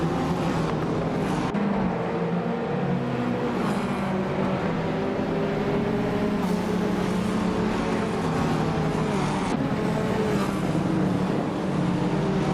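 Racing cars roar off the line at the Villarreal circuit in a video game, a 1980 Lotus Esprit Turbo among them, their engines a dense, steady droning rumble that swells and shifts throughout with no talk.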